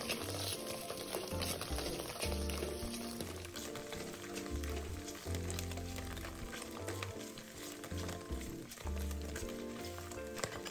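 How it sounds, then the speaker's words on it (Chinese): Shiitake mushroom strips sizzle steadily in two spoonfuls of oil in a hot wok over low heat, with a continuous frying hiss and occasional stirring scrapes, and music plays over it. "热锅下2大匙油，在小火先炒香香菇丝"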